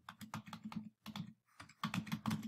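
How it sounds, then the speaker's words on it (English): Fingers typing on a computer keyboard, a quiet run of close, rapid key clicks in two bursts separated by a short pause, with no speech. "let's type our selected story into the search box"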